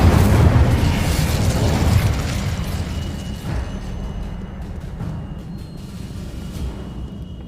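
An Incendio fire spell cast in the video game Hogwarts Legacy, a loud fiery burst with a booming roar that swells over the first two seconds, then settles into a lower crackling rumble, no talk.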